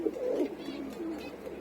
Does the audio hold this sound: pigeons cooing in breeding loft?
yes